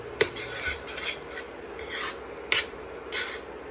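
A spoon stirs darkening condensed milk in a pot for milk candy, a quiet rhythmic rasping and scraping in several slow strokes with a couple of sharp knocks against the pot.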